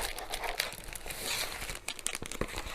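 Paper being rummaged through inside an envelope holding silicone release paper for diamond painting, with close, continuous crinkling and rustling and a few sharper crackles, no voices.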